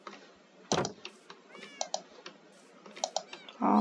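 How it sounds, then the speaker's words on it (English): Several cats meowing in the Minecraft-style game Personal Mine, short separate mews scattered over a few seconds alongside clicking and key taps, close and fairly clear, with no talking. "Come on, cats."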